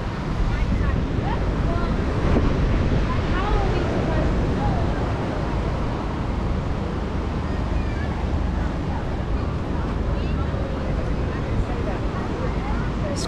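Ocean waves wash onto the beach at Umhlanga Rocks, South Africa, on an evening in 2023. The surf roars steadily and loudly throughout, heavily mixed with gusty wind buffeting the microphone.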